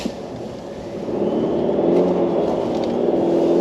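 The 4-cylinder engine of a new Chevy Silverado pickup accelerates, a steady low drone that swells slightly and holds loud, close and continuous, without voices.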